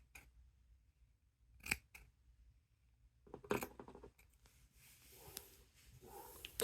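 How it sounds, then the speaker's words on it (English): Scissors snipping through dress fabric while trimming a hem by hand, a few sharp separate cuts close and quiet, then a denser run of snips and rustling fabric handling toward the end, no talking. "Cut straight up into the middle."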